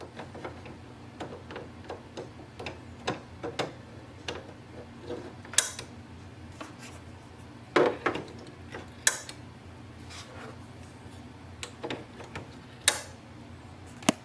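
Ink cartridges being pushed into place in an HP OfficeJet Pro 8130e printer give scattered faint clicks and snaps over a low hum, with a few sharper clicks standing out.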